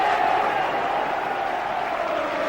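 Roaring cricket crowd at the Melbourne Boxing Day Test between Australia and England in 1998, a dense sustained wash of cheering and applause filling the stadium.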